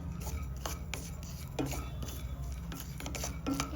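Cashews frying in a pan for besan laddu and modak: a spatula scrapes and stirs against the metal with irregular clinks and rasps over a low background hum.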